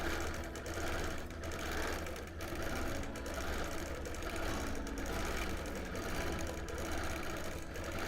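A sewing machine doing free-motion quilting with poly thread at 10 stitches per inch, running as a steady, loud, continuous mechanical whir with a fast stitching rhythm throughout.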